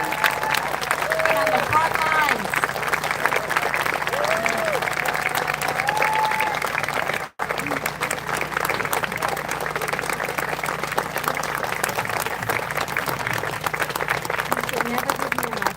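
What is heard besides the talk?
audience applause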